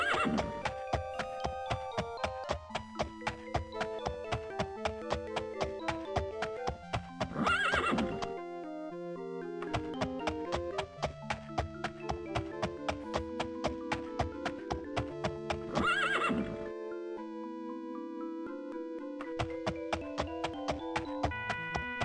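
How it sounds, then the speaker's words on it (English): Horse neighs and steady hoof clip-clops from the video game The Elder Scrolls II: Daggerfall, heard over continuous loud game music, with brief louder bursts around the middle and later. "Speaking of my horse."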